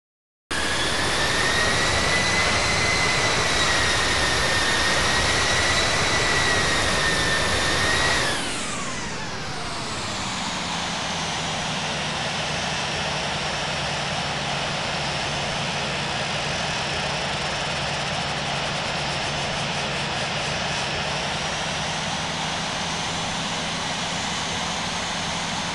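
Boeing 737-900 jet engines at takeoff in the Infinite Flight game: a loud, steady roar with a rising whine that drops sharply partway through, then settles into a lower, continuous drone.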